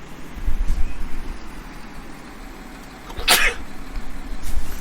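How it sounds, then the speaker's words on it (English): A single sharp sneeze bursts out near the middle of a sneezing fit, close and loud, over a low steady background hum. "sneezing fit"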